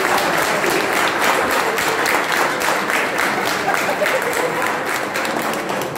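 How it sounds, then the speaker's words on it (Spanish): A loud, dense round of audience applause rings out at a kayak clinic held at a fishing club, sustained evenly for several seconds without talk. "pido un fuerte aplauso para Mónica Sachi"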